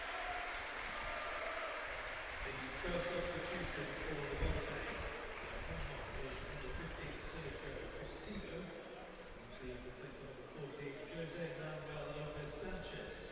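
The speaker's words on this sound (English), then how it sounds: "Gets an applause from the Southampton supporters." Southampton supporters applaud in the stadium during a match against Levante UD, a faint, distant wash of clapping from the stands carried under steady commentary.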